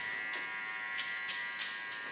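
Electric hair clippers buzz steadily at close range during a care cut, with a few brief brighter bursts as they pass through the hair.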